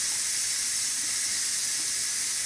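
An Instant Pot pressure cooker vents steam in a loud, steady hiss that holds evenly throughout, close by and with no talking.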